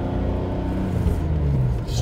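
Low, steady engine rumble and road noise from inside a moving 1988 BMW M6 Coupe on a country road, continuous and even throughout.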